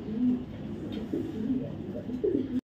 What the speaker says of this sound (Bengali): দেখা একজন রেড চেকার কবুতর,